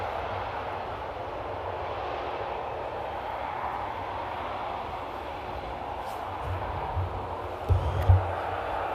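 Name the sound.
KLM airplane landing using engine reverse thrust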